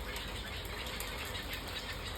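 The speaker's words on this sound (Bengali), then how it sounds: "এখানের গাছগুলো পুরো বক পাখিতে ভরা" Egrets at a nesting colony in trees flap their wings, a soft, continuous fluttering rustle heard faintly with no voices.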